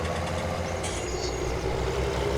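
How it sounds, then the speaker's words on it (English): Tractor engine in Farming Simulator 19 on an alpine map, a steady low idling drone that runs continuously and fairly loud throughout, with no talking over it. "Very nice engine sound, I'd say."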